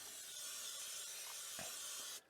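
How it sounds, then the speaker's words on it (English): Cooking spray oil hisses out of a can into a pan in an RV kitchen before making hashbrowns, one continuous close spray lasting about two seconds before cutting off abruptly. "put a little spray oil in it"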